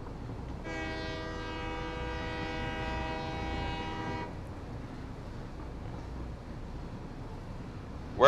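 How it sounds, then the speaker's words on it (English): Train horn honking in the factory-building video game Satisfactory, a steady multi-tone blast lasting about three and a half seconds, fairly loud over a quiet background hum, with no talking. "Your left mouse button honks the horn."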